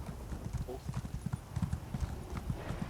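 Horse hooves clip-clop in a quick steady rhythm, close and clear, with a faint whinny, as a mount trots in the online game Elder Scrolls Online during player-versus-player play.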